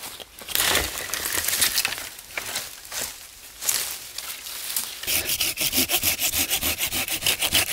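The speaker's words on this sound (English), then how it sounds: "it's probably better to use either of the saws" Hand saw cutting through wood in a woodland setting, steady back-and-forth strokes rasping loudly, with the rhythm quickening into fast, regular strokes near the end.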